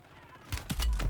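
Short burst of Warzone gunfire, a few sharp cracking shots in quick succession ending in a heavy low thump, loud and close after a quiet start.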